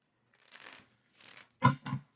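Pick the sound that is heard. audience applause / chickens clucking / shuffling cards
shuffling cards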